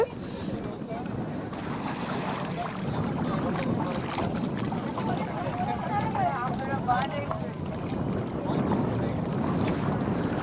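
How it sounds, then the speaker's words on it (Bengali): A wedding party's boat pulls away on a river near the Sundarbans, with steady wind buffeting the microphone and water washing along the hull throughout, while voices talk underneath. "আমাদের বরযাত্রীর নৌকা ছেড়ে দিছে"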